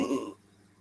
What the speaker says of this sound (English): Excuse me, I'm about to burp.